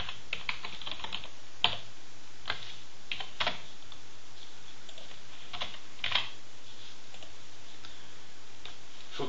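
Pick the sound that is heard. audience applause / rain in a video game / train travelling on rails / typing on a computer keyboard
typing on a computer keyboard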